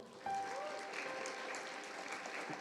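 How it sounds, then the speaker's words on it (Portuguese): A church congregation claps together during a Rosh Chodesh Tamuz worship service, a brief burst of dense applause starting abruptly and holding steady, fairly faint and heard from a distance across the room. "Dá um aplauso ao Senhor."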